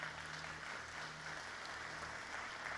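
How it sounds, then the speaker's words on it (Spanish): A church congregation claps in welcome for first-time visitors, a soft, steady patter of applause heard at a distance with a low hum beneath it. "Un aplauso le damos de bienvenida."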